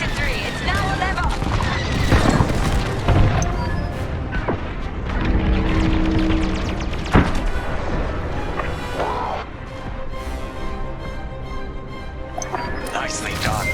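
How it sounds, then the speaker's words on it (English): A frigate explodes in Star Wars Squadrons: a run of heavy booms and crashing blasts with rolling rumble, mixed with spaceship noise and voices talking over the action. "Frigate destroyed."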